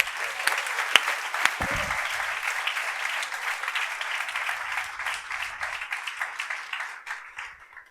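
Steady applause fills a hall at a national youth conference, a dense wash of many hands clapping that continues for about eight seconds before gradually thinning and fading.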